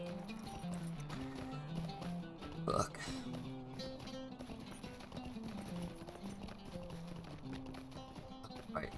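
Horse hooves clip-clopping in the Lord of the Rings Online game, a steady rhythmic trot under continuous game music, with a voice speaking briefly.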